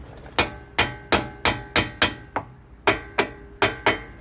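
Hammer tapping on a Land Rover Perentie rear hub to break its silicone seal, about eleven sharp metallic knocks in a steady rhythm with brief pauses, close and clear.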